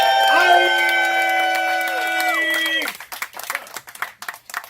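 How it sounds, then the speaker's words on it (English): Coffee shop audience claps, cheers and whoops for a featured poet at a live poetry night, starting under a sustained held musical chord, then scattered clapping and shouts continuing once the tone cuts off. "Another big round of applause for our feature tonight, Blaq."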